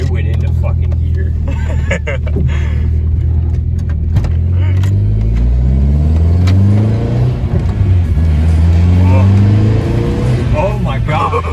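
A Mark 4 VW Golf GTI Stage 2 engine revs hard and climbs through gears with an exhaust pop, loud and close, with excited voices talking over it.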